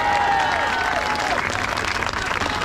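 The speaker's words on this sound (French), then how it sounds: "on peut faire un tonnerre d'applaudissements à Myriam Palomba." A crowd at an outdoor protest rally against austerity in Paris applauds loudly and continuously, a dense wash of clapping with some voices and cheering mixed in.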